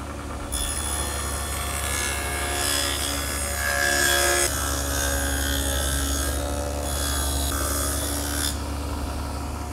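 A table saw fitted with an adjustable dado head cutter whines loudly at steady speed, cutting a groove roughly 1/4 inch wide and 1/2 inch deep along a board, with the pitch shifting as the cut proceeds.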